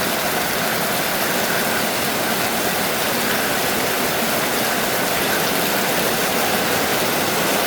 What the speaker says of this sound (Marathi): पाईप सगळे खाली वाकून पाणी पडतंय असं